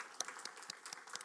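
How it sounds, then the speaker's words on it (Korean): A church congregation claps in welcome during a Sunday worship service, a short burst of scattered hand claps that rises and thins out over about a second, fairly faint with no voices. "우리 자리에 일어나시면 우리 박수로 한번 환영하도록 하겠습니다"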